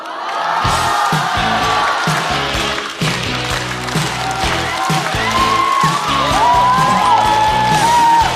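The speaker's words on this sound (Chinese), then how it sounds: "掌声欢迎大鹅。" A stand-up comedy audience cheers and applauds to welcome a new comedian on stage, a loud, dense roar of clapping and whoops that holds steady throughout, with music playing underneath.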